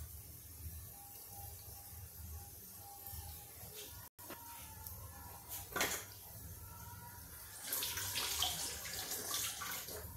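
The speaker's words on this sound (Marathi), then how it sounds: "खूप गरम आचेवर आता आपण हे वडे सगळे सोडले आहेत." Vadas fry in very hot oil with a continuous soft hiss and sizzle, steady and moderately close, swelling slightly louder toward the end.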